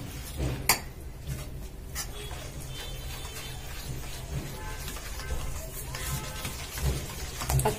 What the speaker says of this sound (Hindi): ये देखिए ऑयल और शुगर को अच्छे से मिक्स कर लेंगे